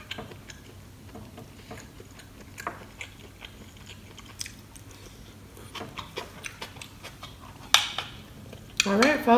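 Close, wet chewing of crunchy meatballs in pho, with scattered crunchy bites and small clicks, fairly quiet, with a few sharper crackles near the end.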